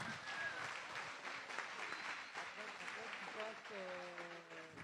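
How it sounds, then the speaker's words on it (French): Crowd applause at an urban trail race, the Urban Trail Chaumont 2021 24-hour event, a steady clapping wash with voices calling and chattering over it throughout. "messieurs, vos applaudissements."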